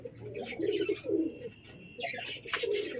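Pet pigeons cooing close by, soft low throaty coos repeating in short phrases with a few higher chirps mixed in, while a person speaks over them.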